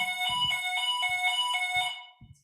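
A building's fire alarm sounds with a loud, continuous electronic tone whose pulses beat rapidly and steadily in a conference hall, nearby and dominant, with faint thumps underneath, before it cuts off near the end.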